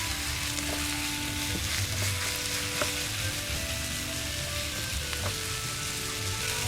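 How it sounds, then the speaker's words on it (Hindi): Marinated chicken sizzles steadily in a handi, a continuous close crackling fry with faint stirring clinks and no voices. "इसमें ये डाल देते हैं और इसको भी 2 से 3 मिनट तक हम भूनते हैं"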